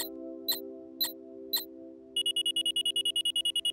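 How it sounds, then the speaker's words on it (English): A cartoon break-reminder invention shows off a few spaced clicks, then its alarm bursts into a rapid, steady beeping pulse over a sustained electronic hum; no one speaks. "When the alarm sounds, that means it's time for a break."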